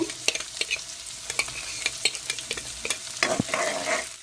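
Green chilies and ginger fry in a pan for upma, with a steady sizzle broken by frequent sharp scrapes and clicks of a spoon stirring against the metal.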